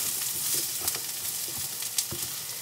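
Garlic fries in a pan with a steady, bright sizzle and crackle, scattered small pops and stirring scrapes over continuous hiss, close and moderately loud.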